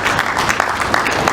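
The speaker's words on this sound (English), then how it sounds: "You're not clapping harder. Please clap harder." Loud, dense applause from an audience at a book launch Q&A, continuous clapping filling the whole moment without a break.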